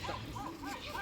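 A dog gives a few short, faint whining yips during an outdoor day trip, with some background noise around it.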